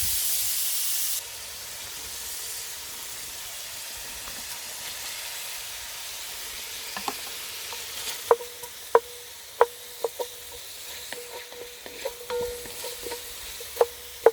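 Food browning in a pan at a van campsite, a steady frying sizzle and hiss with occasional sharp clicks and taps of a utensil against the pan, close and continuous with no talking.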